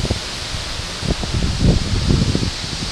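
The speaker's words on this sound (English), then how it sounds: "They said we were going to get 34-mile-an-hour gusts." Gusty wind buffets the microphone in low rumbling bursts, rising and falling over a few seconds, with a faint rustle of leaves behind it.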